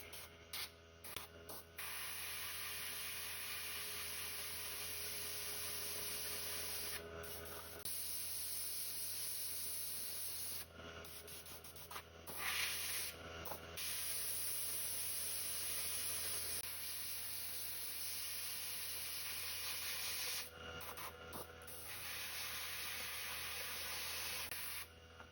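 An airbrush sprays paint onto a bluegill fishing lure in steady, close hissing bursts, with short pauses between passes and no talking.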